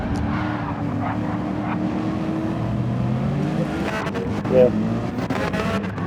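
Race cars run side by side just before turn 1 in a racing video game, a steady engine drone with layered motor tones, under continuous commentary.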